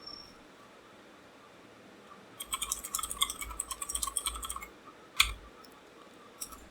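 Someone types a prompt on a computer keyboard, a quick, close burst of clicking keystrokes after a quiet stretch, followed by a single sharper key press and a faint last tap.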